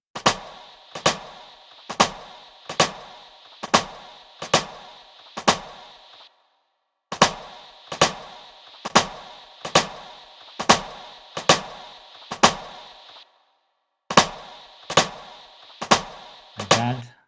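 Processed drum rim shot samples with sharpened attacks and cut-down decay, hitting in even rhythmic runs of sharp dry cracks, with a couple of brief gaps between phrases.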